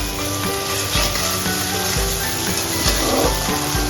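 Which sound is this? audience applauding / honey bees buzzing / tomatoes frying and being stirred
tomatoes frying and being stirred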